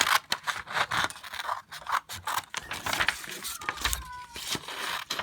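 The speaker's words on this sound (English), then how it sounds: "I'm just going to get a piece of paper, going to cut it," Scissors snip through a small piece of paper for a DIY room decor craft, a run of sharp, close clicks and scrapes spaced irregularly over several seconds, with no talking.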